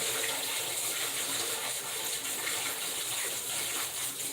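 A kitchen sink sprayer rinses mixer beaters, giving a steady, close hiss of spraying water that runs unbroken and at an even level, with no talking.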